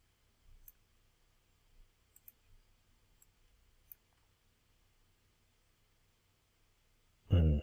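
A computer mouse gives a few faint, sparse clicks against near silence, followed by a brief louder thump at the very end.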